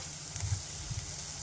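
Chopped green chillies crackle and sizzle in hot oil, a steady close frying hiss with a few small pops, no voices.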